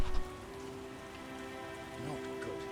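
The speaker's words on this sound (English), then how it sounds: "It's raining." Steady rain falling on surfaces in the video game The Witcher, a continuous hiss with a soft low hum beneath, a brief thump at the start and faint voices murmuring near the end.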